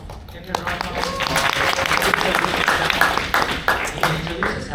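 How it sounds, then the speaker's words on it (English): An audience at a speaking-club table topics session claps for a speaker, dense applause filling nearly five seconds with voices faintly audible underneath. "Give her a round of applause."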